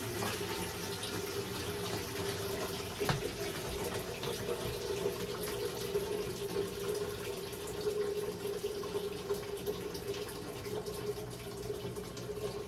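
Liquid is poured slowly into a pot of Colombian sancocho soup, a soft, steady trickle that runs continuously and quietly without talk.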